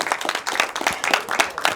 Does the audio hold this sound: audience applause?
yes